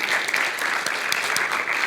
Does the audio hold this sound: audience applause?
yes